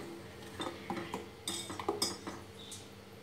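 Metal spoon stirring and clinking against a pot of boiling milk and sugar, several sharp irregular clinks and scrapes over a quiet background, close and fairly faint with no talk.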